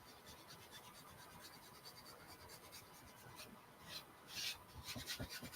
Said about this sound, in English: I'm going to try not to burnish it so much out here in this area